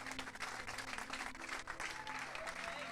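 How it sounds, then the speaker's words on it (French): Audience clapping at a strength sports conference, a continuous patter of applause heard faint and somewhat distant, with indistinct voices and room hum mixed in. "On peut applaudir bien fort, s'il vous plaît, Grégory"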